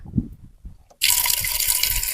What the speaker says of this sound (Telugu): దీంట్లో వాటర్ పోసుకోవాలి